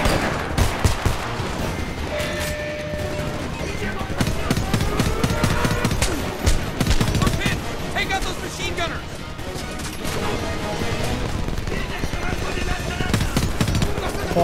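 Rapid bursts of gunfire from Homefront: The Revolution, dense overlapping automatic shots and crashes filling the scene continuously, loud and close, with a voice talking intermittently underneath.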